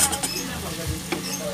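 Pork sizzles and gets stirred in a pan with shrimp paste, giving a short burst of soft crackling and scraping close by.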